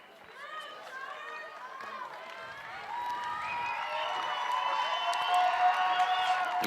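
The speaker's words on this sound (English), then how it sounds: "You can hear from the roar from the crowd that they approve as well" A crowd at a girls' varsity soccer game between Darien and Westhill on senior day cheers and claps, the roar building steadily and staying loud while people talk over it.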